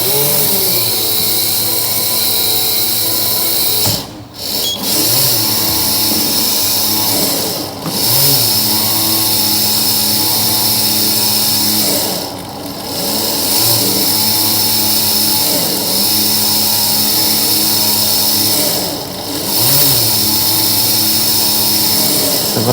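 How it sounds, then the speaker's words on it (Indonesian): A workshop conveyor motor runs as the belt is held back by hand, giving a loud, steady mechanical drone with several brief dips in level along the way. "Jadi ketika nantinya conveyor akan saya tahan, maka grafiknya akan naik."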